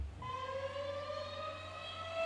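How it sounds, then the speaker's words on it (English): A tornado warning siren wails steadily and loudly, its rising, droning tone sustained throughout with no voices present. "Tornado Siren!"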